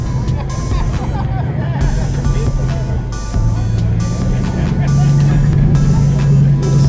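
A Chevelle Malibu with a small block Chevy V8 and American Racing hammer wheels, rumbling steadily at a beach-town cruise week car show amid crowd chatter and other passing traffic.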